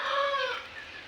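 Turkeys on a small turkey farm give a short burst of gobbling, warbling calls, close and fairly loud, fading toward the end.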